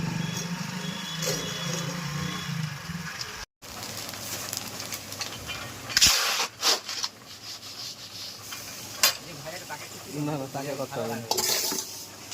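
Puffed rice (muri) roasting at a shop, with close, continuous stirring, scraping and sizzling in a hot pan, broken by a brief gap and occasional sharper clinks of metal utensils.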